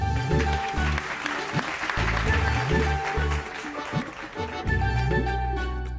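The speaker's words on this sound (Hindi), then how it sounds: "दे ताली।" An audience claps after a puppet show in a Hindi period drama, the clapping laid over loud, rhythmic drum-heavy background music for several seconds.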